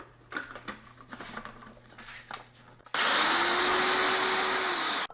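Toasted walnuts are chopped in a food processor: after a few quiet clatters, the motor kicks in with a loud, steady whirring whine for about two seconds, then cuts off abruptly.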